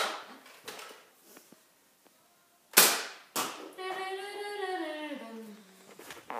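A Halo-themed Nerf pistol fires a single sharp, loud snap, followed shortly by a second softer pop, with quiet room sound and a tonal whine afterward.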